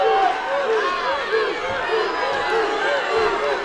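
A crowd at the Androscoggin Bank Coliseum chants a fighter's name, Bruce, during a lightweight title rematch: steady, rhythmic, repeated calls from many voices filling the arena, continuous and fairly loud.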